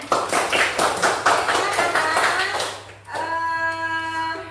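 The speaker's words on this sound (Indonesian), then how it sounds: "Ya, tepuk tangan." A class of students clapping hands together in rhythmic, fairly loud bursts for about three seconds, then stopping as a sustained tonal hum takes over.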